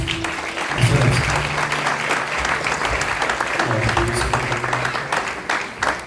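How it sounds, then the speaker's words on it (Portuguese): A church congregation at a Portuguese-language evangelical service claps together in sustained, dense applause, with faint voices and low tones beneath the steady clapping throughout. "Aplauda mais uma vez ao Senhor Jesus."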